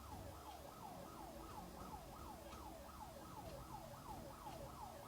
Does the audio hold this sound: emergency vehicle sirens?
yes